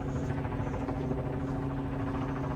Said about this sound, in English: Got a helicopter overhead.